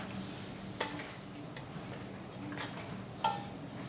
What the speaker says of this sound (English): let it start to saute those onions in with the ground pork, the ground beef